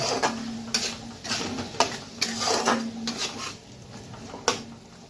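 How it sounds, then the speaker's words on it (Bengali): A spoon stirs potato and pointed gourd curry with sour curd in a pan, irregular scraping and clinking strokes against the metal at close range, each stroke a brief knock or rasp. "টক দই দিয়ে আমার ভালোভাবে কষে নেব"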